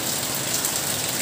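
Steady rain pours during a food delivery ride, a dense, even hiss with no breaks or talking.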